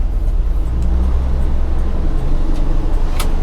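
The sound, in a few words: 1985 GMC C1500 Sierra truck being driven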